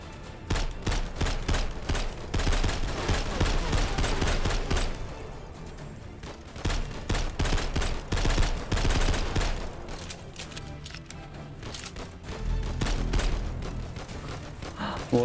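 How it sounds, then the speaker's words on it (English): Enemies in an unfinished open-world video game shoot in sustained bursts of automatic gunfire, with rapid cracks in clusters and short lulls between volleys, moderately loud. "Oh, now firing at me."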